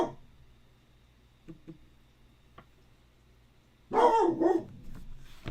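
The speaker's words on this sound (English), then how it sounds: "I have no idea what the fuck she's barking at this point." A dog barks in a short, loud burst near the end, with a couple of fainter yips earlier against a quiet room background.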